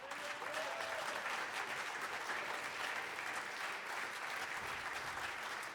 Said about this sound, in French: je crois qu'on peut s'auto-applaudir et applaudir l'amour